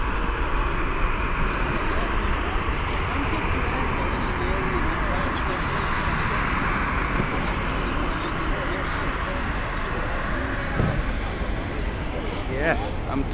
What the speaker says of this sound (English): early rotation there from the Ryanair